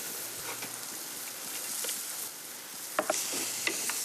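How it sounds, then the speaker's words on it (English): Vegetables and tomato gently frying in oil with added oil, a steady soft sizzle broken by a few sharper crackles and stirring clicks near the end, no talk. "I'm just going to add some more oil to it and then fry off my vegetables"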